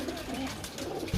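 A golden pigeon coos in low, steady, rounded tones at a bird sale, continuous and fairly close throughout the short stretch, with no talking.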